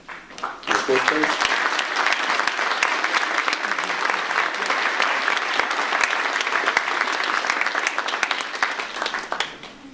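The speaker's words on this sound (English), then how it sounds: "Applause, please." A school hall audience breaks into sustained applause at a certificate of achievement ceremony, many hands clapping steadily for several seconds before tapering off at the end.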